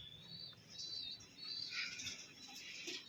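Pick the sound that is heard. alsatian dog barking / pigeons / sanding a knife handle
pigeons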